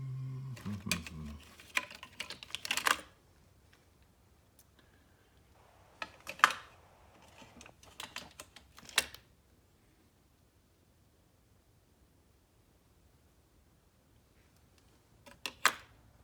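Metal sockets and hand tools clatter and clink in bursts while someone digs through a messy pile for a 10 mm socket during a Honda 250SX three-wheeler front tire repair, with long quiet gaps between the close rummaging noises.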